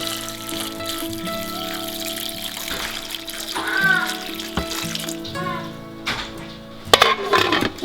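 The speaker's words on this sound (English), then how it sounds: "got a little bit more water here to top everything off." More water runs into a crock pot of bones for stock, a close, uneven trickling and splashing pour that swells and breaks up toward the end with a few sharper splashes.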